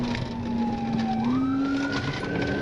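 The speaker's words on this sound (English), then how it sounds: "Troopers activated their sirens" A steady wailing police car siren during a high-speed chase, rising in pitch over traffic rumble, fairly close and loud, no talking.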